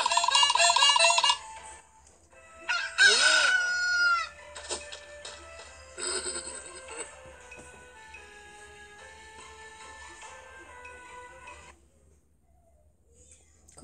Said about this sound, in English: and the rooster crying.